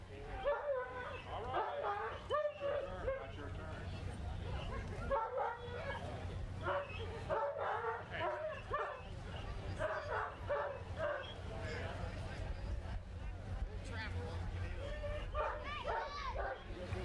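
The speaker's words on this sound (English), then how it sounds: "It's a trained response to bark and carry on anytime somebody approaches a car." A trained police dog barks and yips repeatedly inside a car, loud and close, in bursts with occasional whimpers, while people talk throughout.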